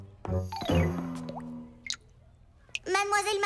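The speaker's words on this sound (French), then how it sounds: "Mademoiselle Martin, je crois que le robinet coule." Cartoon dripping faucet in a garden setting, a few short, wet drip plops spaced apart, mixed in among animated character voices and tonal sound effects.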